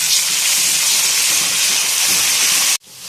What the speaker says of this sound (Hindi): अब हम इसके अंदर 3 टेबलस्पून अदरक लहसुन का पेस्ट ऐड करेंगे और इसको भी भून लेंगे